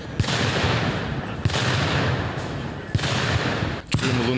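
Sharp bangs of gunfire crack every second or so over a dense, rumbling background of distant blasts, loud and outdoors, during a military exercise.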